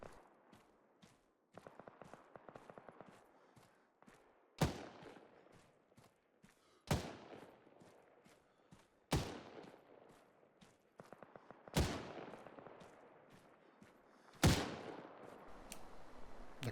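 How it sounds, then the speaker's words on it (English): Gunfire in ARMA 3, shots passing through rock: a string of sharp, loud single reports spaced a few seconds apart, each with a decaying tail, between lighter ticking and clattering in the gaps. "Look at that, shooting through the rock."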